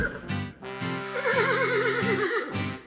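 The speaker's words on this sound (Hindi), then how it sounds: "उसने अपने पांव जमीन पर मारे, नथने फुलाए और अपनी दुम अकड़ाकर जोर से हिनहिनाया" A horse gives a loud, wavering whinny in the middle, with heavy stamps and low snorting bursts around it, close and alone without speech.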